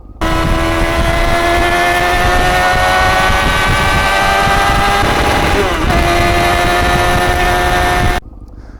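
A loud Honda 954 Fireblade motorcycle engine holds a high-pitched, steady rev around 9,000-10,000 RPM with a strong whine, dips briefly, then climbs again before cutting off abruptly.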